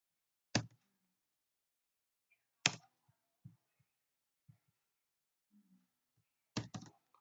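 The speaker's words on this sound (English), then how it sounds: "So let us correct this query by typing group by also." Keys struck on a computer keyboard while typing an SQL query: a few sharp isolated clicks and thunks spaced seconds apart, with a short cluster of taps near the end, in an otherwise quiet room.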